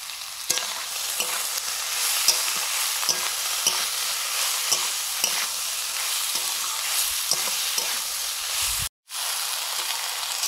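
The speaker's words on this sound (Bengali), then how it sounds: "সবজিগুলো কষা হয়ে গেছে, লাল শাক দিয়ে দিচ্ছি।" Vegetables fry in a pan with salt, turmeric and chili powder, giving a steady loud sizzle broken by repeated rhythmic scrapes of a spatula stirring, close up, with a brief dropout near the end.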